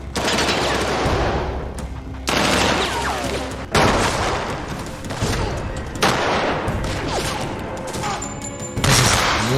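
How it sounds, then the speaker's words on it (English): Intense gunfire in a Walking Dead episode: sustained bursts of machine-gun fire broken by abrupt cuts, each volley loud and dense with sharp rattling shots and booming impacts, with faint voices under the din. "This is a lot of gunfire."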